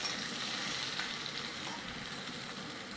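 Potatoes and taro fry in hot oil, a steady close sizzle with faint stirring, continuous and without talk.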